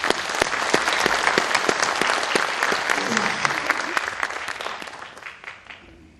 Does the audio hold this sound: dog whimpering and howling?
no